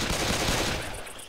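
Rapid gunfire from the Left 4 Dead video game comes as a dense, loud burst of shots that slackens near the end.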